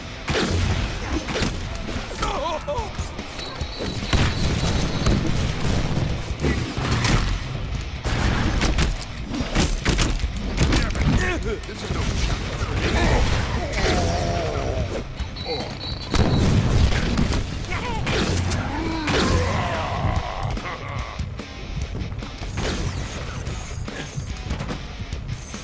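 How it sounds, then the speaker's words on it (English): Grenades go off in a club in the Deadpool video game, with loud booms, crashes and gunfire bursts that come thick and fast, mixed with voices talking over the chaos. "Throwing grenades in the club."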